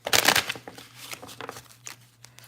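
Close riffle of a tarot deck, an opening loud burst of shuffling followed by softer scattered card flicks and taps, over a faint steady hum.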